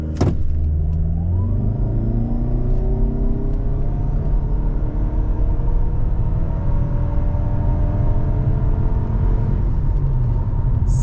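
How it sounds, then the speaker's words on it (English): A 2023-2024 Toyota Camry Hybrid pulls away from a standstill, a steady close engine and road rumble rising in pitch as the sedan gains speed, with no talking. "you just press the gas pedal and you start taking off"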